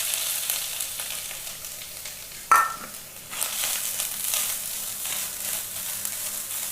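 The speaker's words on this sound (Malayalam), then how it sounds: "ഇനി എണ്ണ ചൂടായി വരട്ടെ, നമുക്ക് തേങ്ങ ഇട്ട് കൊടുക്കാൻ. അങ്ങനെ നമ്മൾ 1/2 കപ്പ് തേങ്ങ ഇട്ട് കൊടുക്കാം." Grated coconut sizzles steadily in hot coconut oil in a pan for a curry, a dense, even crackle with one brief scrape or clatter partway through.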